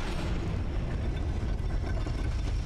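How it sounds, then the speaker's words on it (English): A Dark Souls III elevator carries the player upward with a continuous low mechanical rumble and grinding, dense and loud throughout, with no speech. "I was not expecting this elevator to take me up."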